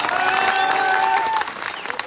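A crowd at a political rally celebrating the Vav seat win bursts into loud, dense clapping and cheering, sustained for a moment before thinning out.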